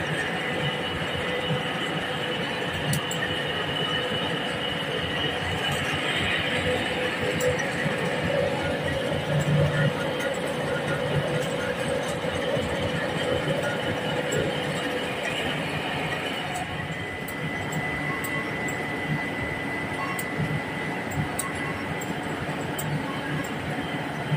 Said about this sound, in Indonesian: Mesin stanter Ilsung ini terpasang 10 chamber pengering, sumber panas oil heat transfer dari thermal oil boiler.